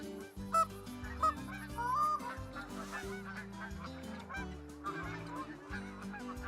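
Geese honking loudly and repeatedly in a goose-hunting video game, a dense overlapping flock of calls over a steady layered musical or ambient drone, with no talking.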